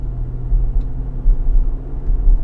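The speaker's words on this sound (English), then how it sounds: "Hear the V8" A deep V8 engine rumble hums steadily from inside a moving 2021 Nissan Armada Platinum SUV at night, low and continuous with slight surges in loudness.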